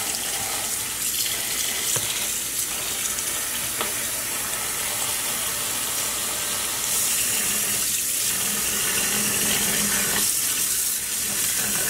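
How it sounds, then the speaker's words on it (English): Water pours steadily into a dye pot holding dry sock yarn being dyed with acid dyes, a continuous close hiss and splash that swells and eases slightly without pause. "let's start adding some water and seeing if any of this color comes out"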